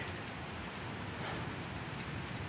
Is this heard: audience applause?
no